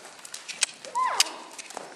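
A horse cantering on a lunge line, its hoofbeats soft and irregular, with a brief whistle-like call near the middle.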